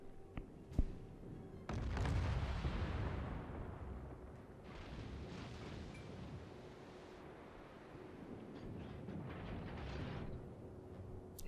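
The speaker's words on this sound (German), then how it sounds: "jetzt hier die Schüsse auf ihn von der Seite" Naval gunfire during a Yamato battle in World of Warships: a sharp report, then a deep booming salvo rumble that rolls on and fades into a long low roar, fairly faint and without talk.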